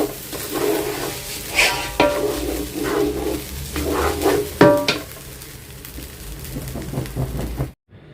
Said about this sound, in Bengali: এখানে আমি চালটা কষায় নিচ্ছি চালটা ভালো মতো কষাই নেব